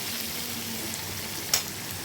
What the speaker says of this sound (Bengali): পেঁয়াজ দিয়ে নিয়েছি, পেঁয়াজগুলোকে আমি ভেজে নেব।